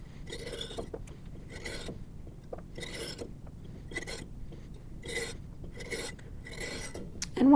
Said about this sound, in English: we'll switch to a bigger saw